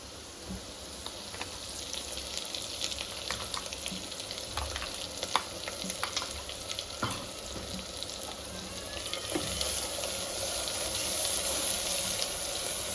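Mutton frying in oil in a pan for a gravy, a steady close sizzle with scattered crackles and stirring clicks throughout, no talking.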